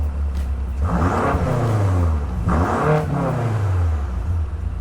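A 2018 BMW M5 engine revs hard twice in Sport Plus mode, each rev rising sharply then falling back to a deep, rumbling idle, close and loud.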